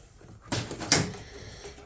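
US General 34-inch master tech toolbox drawer being pulled open, two quick close metallic slides and clunks in a quiet garage, no talk.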